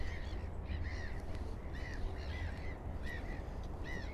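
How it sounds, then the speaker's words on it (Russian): Gulls call repeatedly from a distance over a city new-build housing site, harsh cawing cries arriving in irregular bursts above a low, steady background hum. "А вот там царство чаек."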